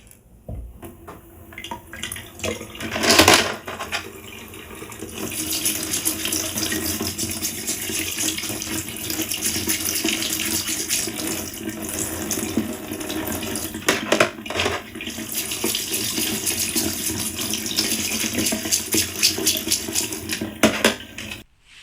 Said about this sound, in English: the next step we're going to do now is go and wash them in the water